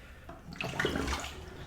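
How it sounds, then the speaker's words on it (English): Water poured out of a shaving bowl used for lathering hard soap, a brief close splash and gush that swells and then fades, heard alone. "I poured out the water"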